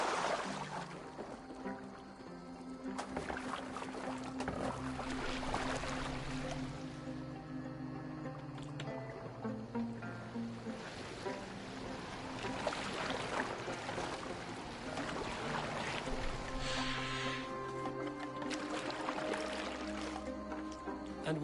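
A boat steered on water in Assassin's Creed Valhalla, with steady sloshing, splashing and dripping water over about twenty seconds, a continuous moderate wash with occasional louder surges.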